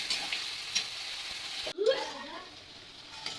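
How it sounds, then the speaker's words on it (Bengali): Ginger, cumin and green chilli paste sautéing in a pan: a soft continuous sizzle with light stirring, a short gap and a brief scraping knock partway through, quiet and close. "পেস্টটা দিয়ে একটু ভালো করে কষিয়ে নিতে হবে।"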